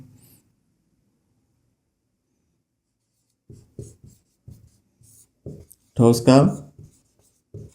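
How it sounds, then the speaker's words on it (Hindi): Short scratchy pen strokes come in brief bursts during a maths solution on solid surface area, with a few spoken words breaking in near the end. "तो यहाँ हम लिखते हैं"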